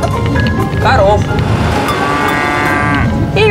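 Several cattle moo in drawn-out calls over steady road or engine rumble, with a voice speaking in the background, on a road in Cambodia.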